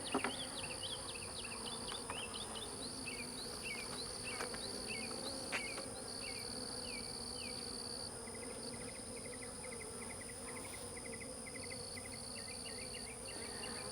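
Honey bees buzzing on a hive frame during a hive merge, a steady close drone with scattered chirping insect calls and faint handling noises, no talking.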